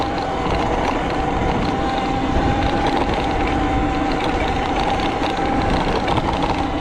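Talaria MX5 electric dirt bike cruising at half throttle along West Virginia single track, a steady thin motor whine over constant wind and trail rumble, close and unbroken.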